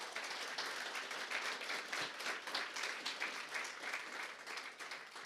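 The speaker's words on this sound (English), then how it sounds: "Round of applause for that." Audience applause after a panel discussion, a dense steady wash of many hands clapping at moderate volume for several seconds without pause.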